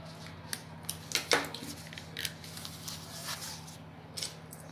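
Scissors snip a small piece off the end of a zipper's teeth chain while sewing a framed pocket: a few quiet, close cuts clustered together, with light handling sounds around them.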